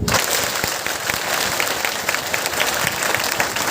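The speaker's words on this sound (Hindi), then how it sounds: "एक बार जोरदार तालियां" An audience at a school outreach event breaks into a loud, sustained round of clapping, dense and steady throughout, with no pauses.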